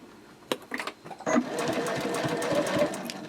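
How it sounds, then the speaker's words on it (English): A sewing machine stitches around the edge of a fabric sling from the gusset side with an edge guide, whirring steadily and close after a few short starts and clicks. "we're just going to sew all the way around from the gusset side"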